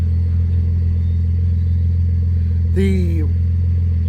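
Car engine idling steadily after a cold start on Mobil 1 synthetic oil, a constant low rumbling drone throughout, with a brief spoken word rising over it near the end.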